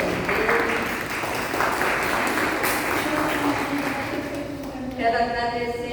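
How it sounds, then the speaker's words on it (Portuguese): An audience applauds a professor at a municipal event for elder rights, with sustained clapping from a hall crowd that thins out toward the end as a voice begins speaking. "Salva de palmas para ele."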